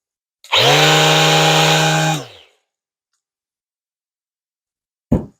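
A Ryobi P401 Corner Cat sander whirs loudly for about two seconds with a rough, vibrating buzz, then spins down, followed by a brief knock near the end.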